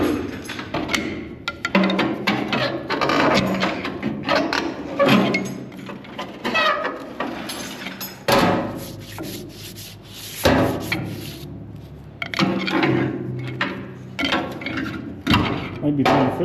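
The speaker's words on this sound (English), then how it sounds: "You can hear the flails in there as I roll it." Flails of a Lawn Genie clatter and rub inside the machine as it is rolled by hand, in irregular close scraping bursts with short pauses between them.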